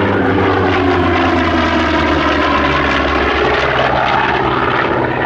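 A propeller warbird flies past at the Air Legend 2024 air show, its piston engine droning loud and continuous with a steady throbbing rumble that holds close and strong from start to finish.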